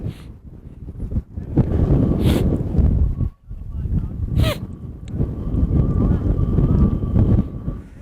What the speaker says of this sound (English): Wind starting to pick up here